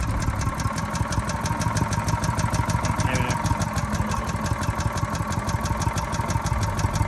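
A Predator 212cc engine on a Harbor Freight wood chipper runs steadily at a fast idle, a loud, even mechanical drone with a rapid regular pulse that holds unchanged throughout, with no voices.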